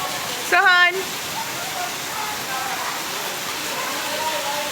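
Heavy rain pouring down in Karachi, a steady broadband hiss throughout, with a brief voice near the start over the downpour.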